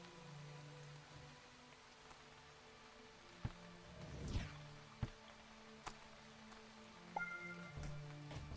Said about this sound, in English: this all gets wet because it's raining